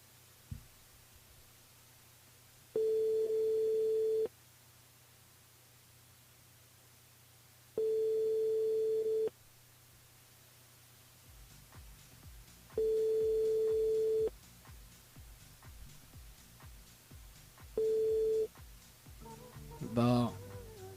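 Telephone ringback tone during a live radio call, four long evenly spaced tones separated by pauses over a low line hiss, with faint talk and static building near the end.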